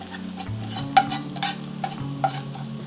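Browned onions with chopped rosemary and sugar stirred in a pan, a constant soft sizzle punctuated by several close scraping strokes of the spoon in an irregular rhythm.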